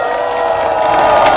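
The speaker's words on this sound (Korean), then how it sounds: "다시 한번 큰 박수 보내주시오" Crowd cheering and applause at an outdoor election campaign rally in Gyeyang-gu, a dense, steady roar of many voices and hands that holds loud and close throughout.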